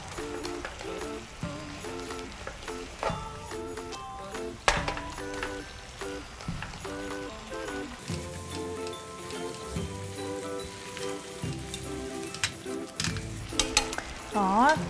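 Broth-based pasta sauce simmering in a pan, with a soft constant bubbling sizzle and intermittent scraping, stirring taps of a utensil against the pan, faint and close, with background music throughout.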